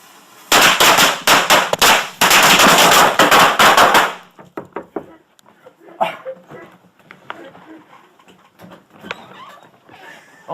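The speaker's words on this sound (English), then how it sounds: "Did he just light fireworks in your fucking house?" Fireworks set off indoors inside a house, a loud rapid crackling barrage of bangs for several seconds that then stops abruptly, followed by scattered faint pops and a dog whimpering in the quieter aftermath.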